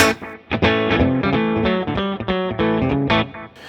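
An electric guitar through a Fractal AM4 plays a run of plucked notes, each followed by a quick single echo that gives a tight, doubled slapback feel.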